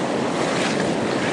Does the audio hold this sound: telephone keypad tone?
no